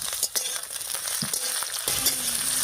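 Chopped tomato and slit green chilies hit browned onions in a hot pan, and a loud, continuous close sizzle follows with a few stirring scrapes and no talking.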